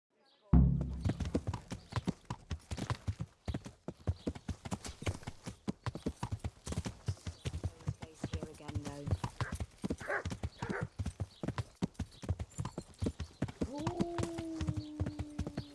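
Horse hooves clip-clopping steadily while riding through the countryside in Kingdom Come: Deliverance, a fast regular gallop with an occasional whinny, with a voice talking over it.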